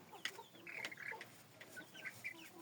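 Silkie and frizzle chickens cluck softly nearby in short, scattered chirps and murmurs, several birds calling at irregular moments over a quiet background.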